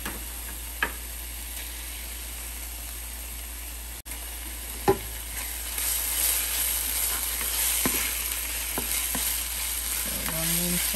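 Ginger garlic paste frying in a pan with browned onions for vegetable kurma, a continuous quiet sizzle with a few sharp clicks and knocks and the hiss growing slightly louder midway.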